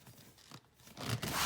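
A zipper closes on the sunroof cover of a 1987 Porsche 944, a short rasping pull that grows louder toward the end, heard up close and alone.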